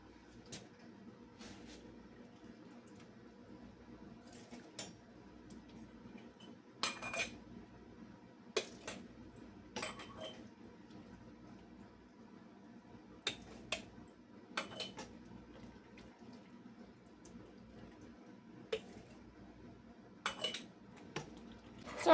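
Corn relish being ladled into glass canning jars at home, with sporadic sharp clinks and taps of metal against glass over a low steady background hum, close by and without talk.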